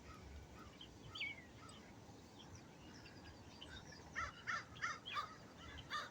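Birds on a pond call faintly against steady outdoor noise, with scattered cries and then a run of repeated crow-like caws toward the end, distant and low in level.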